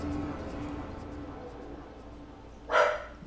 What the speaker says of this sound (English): My pupper's barking.